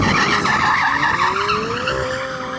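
Tyres on a high-performance car squeal and skid loudly at a drag race, a sustained screech with rising engine pitch close by.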